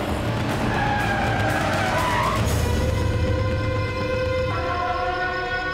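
A car skids loudly in a scene from a Telugu action film dubbed into Hindi, with drawn-out tire screeches that rise and bend over a heavy engine roar.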